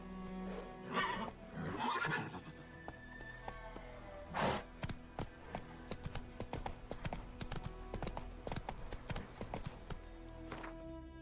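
A horse in the Witcher 3 video game whinnies loudly early on, then its hooves clip-clop in a steady, close rhythm on the ground for several seconds, with no talk.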